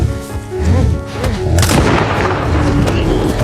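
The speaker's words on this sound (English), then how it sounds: "the gunshot enraged the beast again" A loud, booming gunshot from a rifle fired at a brown bear in the wilderness, with a heavy blast and a long rumbling tail.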